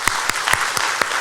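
A Sunday church service congregation claps loudly to greet and send off departing members, a full, dense round of applause with a few sharper individual claps standing out near the front.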